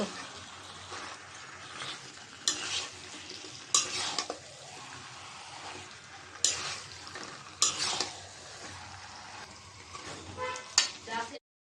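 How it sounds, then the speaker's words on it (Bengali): Chicken and potatoes being sautéed with spices in a pot for khichuri, with repeated spoon scrapes and clatters over a low frying sizzle, strokes arriving in bursts. "এখন সব একসাথে কষাই নেব,"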